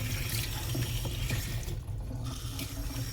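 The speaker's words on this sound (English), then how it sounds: "You can, like I said, you can squeeze them, put water through them." Tap water runs steadily into a sink while frog tank filter media is rinsed under it, a continuous close splashing hiss with brief shifts in flow partway through.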